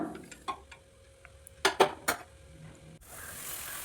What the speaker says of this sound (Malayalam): എല്ലാം നന്നായിട്ട് കൂട്ടി ഇളക്കണം.